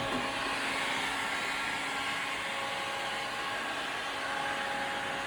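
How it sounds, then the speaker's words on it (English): A heat gun blows hot air over MetaCast MDC XR vinyl wrap film, giving a loud, constant broadband whoosh that stays even and unbroken throughout. "where you're applying the heat there is basically around sort of the flat piece, the lower level"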